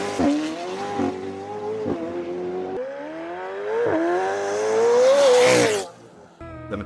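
A McLaren Senna with a twin-turbocharged 4.0-liter V8 revs hard through repeated rising pulls and gear shifts, swelling to a loud, close howl before cutting off sharply, with no talk over it.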